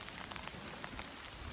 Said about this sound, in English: can you see all the raindrops? It's really starting to come down.